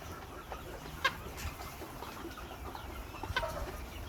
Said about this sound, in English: This bird right here is making some funny noise